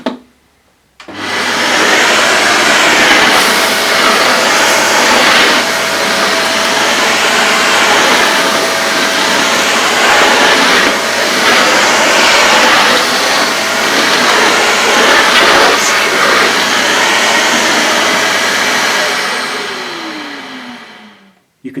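Dyson CY22 Cinetic Big Ball Animal cylinder vacuum cleaner running on a lower suction setting over a floor scattered with rolled oats, a loud steady broadband whir that holds from start to finish after a quick switch-on.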